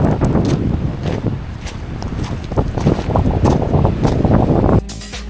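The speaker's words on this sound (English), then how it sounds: "This is windy on this side." Strong wind gusts buffet the microphone beside the water on a striper fishing outing, a loud, rumbling roar with uneven pulses that cuts off abruptly near the end.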